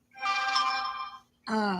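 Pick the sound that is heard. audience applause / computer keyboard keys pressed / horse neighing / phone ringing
phone ringing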